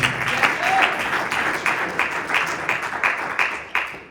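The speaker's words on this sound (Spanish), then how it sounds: "Regálele fuerte el aplauso al Señor." A church congregation at a Bible study service claps loudly, a dense wash of applause with the sharpest hand claps standing out near the listener, tapering off at the end.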